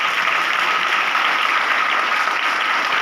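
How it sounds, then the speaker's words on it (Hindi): Schoolchildren at a government high school event applauding: a loud, continuous sheet of clapping from a large group, steady from start to finish with hardly any voices. "एक बार फिर से जोरदार तालियों के साथ"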